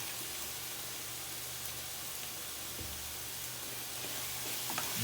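Steady sizzle of a macaroni dish frying in oil in a pan, a constant hiss of moderate loudness throughout with no talk.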